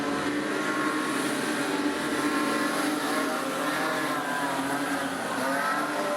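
Super Street Sedan race cars racing at Rockhampton Speedway, a dense continuous roar of several engines at full throttle with rising and falling revs as the pack passes, loud and sustained without a break.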